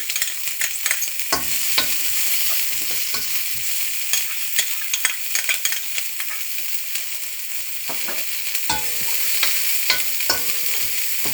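Green garlic frying with chicken for chicken chilli, with steady pan sizzle and scraping stirring strokes throughout at close range; no one speaks.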